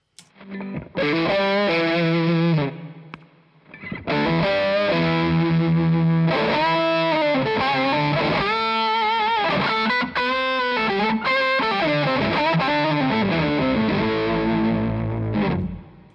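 A heavily overdriven electric guitar plays chunky rhythm riffs with a thick, doubled low octave, loud and buzzing, with short pauses between phrases.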